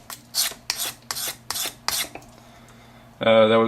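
A steel blade drawn freehand across an old sharpening stone in five rhythmic rasping strokes, each a short scraping swipe, followed by quiet and then a louder, sustained grinding rub near the end.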